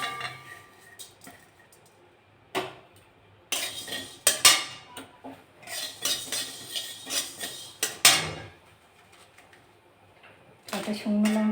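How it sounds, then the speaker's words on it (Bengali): Coriander seeds and other whole spices clatter and rattle in a hot wok as they dry-roast, with bursts of scraping and metallic stirring between quieter pauses; speech is faintly present. "ধনে, মৌরি, জিরে আর শুকনো লঙ্কা আমি ভাজা করে নেব"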